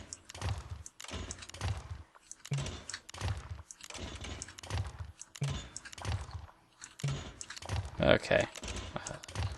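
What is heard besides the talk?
computer keyboard keys pressed, WASD and shift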